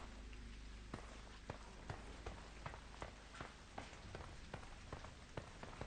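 Steady rain in the video game Echo falls on metal surfaces in a dark, endless abyss, a constant hiss broken by regular faint ticks and taps at a quiet level, with no talking.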